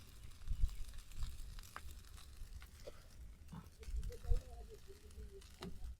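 Chicken noodles frying in a pan for street-style fast food, a soft continuous sizzle with occasional stirring scrapes and a low background rumble, no talking.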